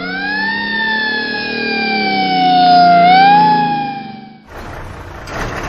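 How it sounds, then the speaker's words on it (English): Fire engine siren wailing loud and sustained with a slight dip and rise in pitch, then cutting off into a burst of broadband noise, with no speech. "fire engine"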